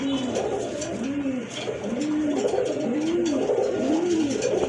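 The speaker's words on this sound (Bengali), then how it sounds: "এখানে কিন্তু আরেক জোড়া কবুতর আছে খুবই সুন্দর দেখার মতো এক জোড়া কবুতর" A pair of running pigeons kept for sale coo in a steady rhythm, about five rounded, repeated coos in a row, close and clear over a faint background hum.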